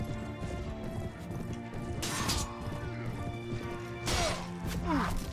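Horse archers charging in Mount and Blade Warband, modded with Prophesy of Pendor, bring galloping hooves, clashing impacts and thuds amid a busy battle din, with sharp crashes near the start and end.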